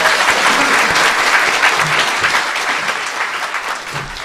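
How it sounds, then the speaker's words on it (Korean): A studio audience at a live Korean political talk show bursts into loud, sustained applause that carries on for several seconds and fades slightly toward the end. "박수 부탁드립니다"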